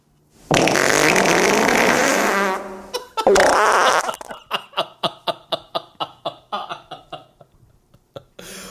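Fart-like call of a red-winged blackbird: a long buzzy blast, a second shorter one, then a rapid run of about a dozen clipped pulses that slowly fade.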